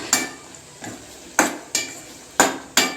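Prawns being sautéed with a roasted powder of cumin, pepper and dried red chillies: six sharp scraping stirs of a spoon against a pan over a faint sizzle, close and spaced irregularly.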